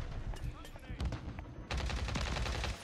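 Rapid bursts of automatic gunfire from a Call of Duty match crack in quick clusters, with a denser volley near the end, while a player talks over them.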